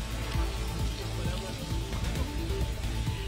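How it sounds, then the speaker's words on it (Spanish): Water from a burst main in Santa María, Chile, sprays down like rain, a dense, continuous patter and hiss of droplets striking the ground, steady and moderately loud throughout. "se produjo una rotura de matriz de agua que continúa allí lanzando esta verdadera lluvia en pleno febrero."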